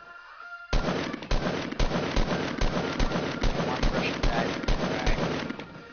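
Rapid, evenly spaced bursts of loud gunfire in a video game, starting abruptly after a brief quiet moment and hammering on steadily in a close, repeating rhythm.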